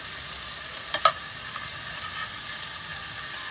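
Salmon pieces sizzle in a pan with sauce and cream, a steady bright frying hiss with a couple of brief clatters as the pan is tossed, close and continuous, no talk.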